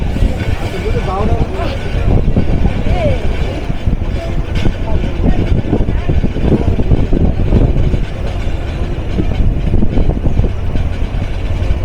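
Worn-out locomotive hauling the Kurigram Express near Ibrahimabad junction, Tangail, producing a continuous loud low rumble and rattling run noise beneath constant nearby talking.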